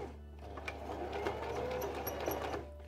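A sewing machine stitches a backstitch on a dress, making a soft, steady mechanical whir with light rhythmic ticking at low volume, and nobody speaks over it.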